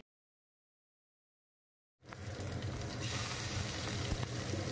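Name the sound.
garlic sizzling while tempering in oil for jackfruit curry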